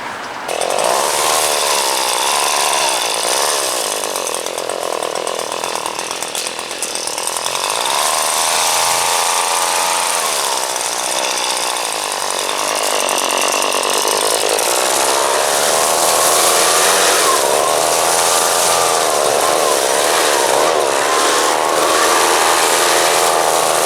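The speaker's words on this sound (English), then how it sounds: "you can just take your blower and blow your leaves" A leaf blower roars continuously at close range while blowing leaves off fresh mulch, a loud sustained whine and rush that swells slightly partway through, with no talk.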